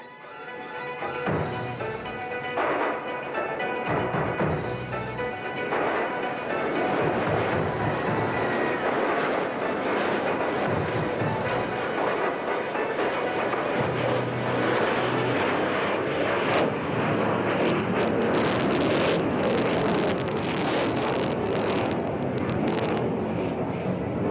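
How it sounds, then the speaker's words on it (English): A Su-30 MKI fighter jet flying past at an Indian Air Force Day air show, a loud sustained engine roar that swells and holds with broad rushing noise and a faint whine, under crowd and public-address ambience. "this is precisely what the MKI will demonstrate to you as she flies past you at near speeds of 200 kilometers per hour"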